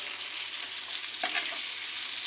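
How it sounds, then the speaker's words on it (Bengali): Potatoes fry in a pan with a dense, steady hiss, broken by a single short scrape of stirring partway through; no voices. "আলুগুলোকে আমি একটু ভালো করে ভেজে নেব"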